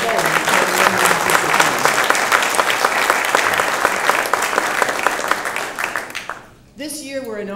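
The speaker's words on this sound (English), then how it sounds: "please join me in a round of applause in thanking Tom Glaser and Joe Bowen" Sustained audience applause at an awards luncheon for the Walter Cronkite Awards, dense steady clapping from a crowd that fades out near the end before a voice starts speaking.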